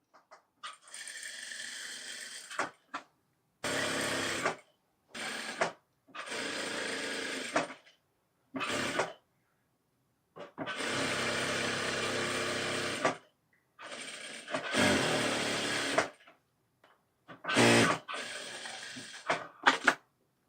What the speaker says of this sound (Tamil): இப்போ திருப்பி நம்ம ப்ளவுஸை சுற்றியுமே அப்படியே தையல் போட்டுக்குங்க.